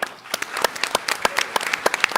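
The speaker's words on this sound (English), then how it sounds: "Give them a round of applause." Scattered audience claps ring out after a startup pitch at TechCrunch Disrupt 2023's Startup Battlefield: a brisk, uneven run of sharp individual hand claps, moderately loud and close, with no speech.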